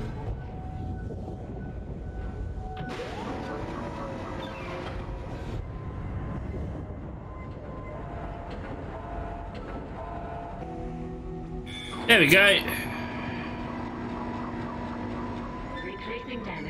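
A damaged tram car in Dead Space grinds along its rails with a low mechanical rumble, then a loud metallic screech and clank bursts out before settling into a steady hum, with a brief spoken line.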